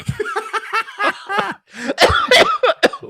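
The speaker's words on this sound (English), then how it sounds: "I can't laugh without coughing" A man laughing and coughing together in a burst of hacking, broken laughter, loud and close, with short chuckles tangled into coughs.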